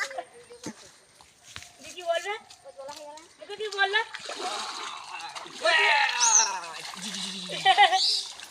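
Water splashes and trickles as people bathe in a village pond, with irregular close splashing under frequent voices and children talking throughout.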